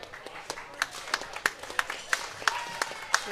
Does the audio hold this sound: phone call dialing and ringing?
no